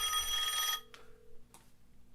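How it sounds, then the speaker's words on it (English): A smartphone ringtone rings from inside a pocket, a bright tonal ring at moderate distance that cuts off, followed by two faint brief taps as the phone is squeezed to silence it. "so you can hear his phone ringing"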